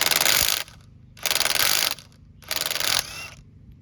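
A hand ratchet loosens the lug nuts on a 2004-2008 Ford Focus wheel, three bursts of rapid close clicking separated by short pauses.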